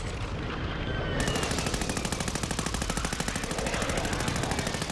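Rapid automatic gunfire from Call of Duty: Modern Warfare II, a loud, steady stream of evenly spaced shots that starts about a second in and continues to the end, with no talking.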